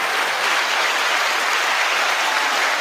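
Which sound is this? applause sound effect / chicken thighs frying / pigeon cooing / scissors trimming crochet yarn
applause sound effect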